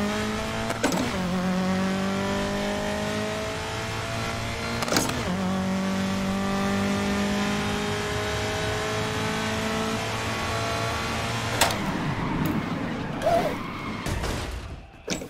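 Racing game engine from GRID 2019, played on a PC sim rig, holds a steady high rev with harmonic whine through most of the run, broken by brief shift-like drops, then turns rougher with scraping, creaking mechanical noise near the end.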